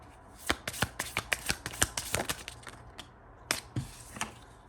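Tarot cards being shuffled by hand, a close run of crisp riffling flicks and slaps in quick irregular bursts, pausing briefly before a few more snaps.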